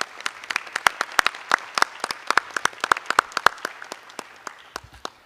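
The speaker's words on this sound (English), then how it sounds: "how about a big round of applause for us being Purple Star District?" Audience applause at a school board meeting, a crowd clapping steadily for about five seconds, dense and fairly close, then tapering off at the end with no talk over it.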